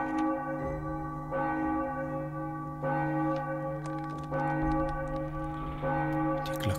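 An old rusty bell, its mount eaten by rust, rings in the video game Enigmatis, sounding loud, resonant strikes about every one and a half seconds, each ringing out with a long humming decay and no voices.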